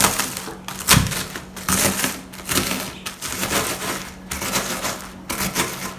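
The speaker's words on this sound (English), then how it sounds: "Make sure you crush this up into very, very small pieces, very finely." Something is crushed inside a sealed Ziploc bag into very fine pieces, giving repeated rough crunching and rustling bursts in an uneven rhythm, close and fairly loud.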